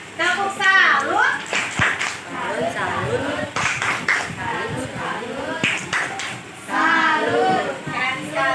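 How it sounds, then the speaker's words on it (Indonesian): A classroom group does a rhythmic tepuk salut clapping cheer, with sharp claps mixed among children's and adults' voices chanting and speaking throughout. "Tepuk salut dulu buat kelompok orang."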